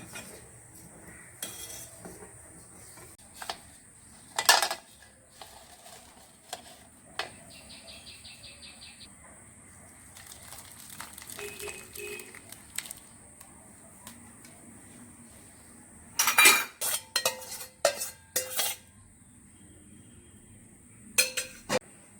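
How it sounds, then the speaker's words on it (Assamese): A metal spoon stirs curdled milk in a pot while rasmalai is being made at home, giving sporadic clinks and scrapes against the pot, with a sharper cluster of knocks toward the end. Faint crickets chirp steadily in the background. "এইখিনি অকণমান লৰাই থাকিম আমি।"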